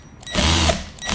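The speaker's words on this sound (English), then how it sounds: "I'm going to use power tools for that" A power tool whirs in one short burst of about half a second while backing Phillips screws out of an HP Spectre x360 ultrabook laptop. The tool is close and fairly quiet, with near silence before and after.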